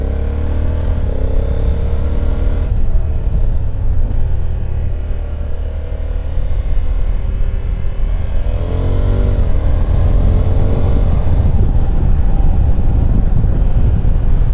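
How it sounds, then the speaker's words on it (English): A 2020 Honda Africa Twin Adventure Sports with DCT gearbox roars loudly with engine revs rising and falling, including quick throttle blips around downshifts, over steady wind rush from riding. "That is fun, hearing it blip the throttle when you downshift."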